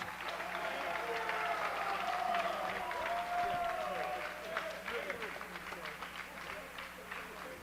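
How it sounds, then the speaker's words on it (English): Sustained crowd applause at an indoor high school swimming conference meet fills the space, with dense clapping, a steady roar of voices, and cheering that gradually tapers off toward the end. "Let's give them one last round of applause."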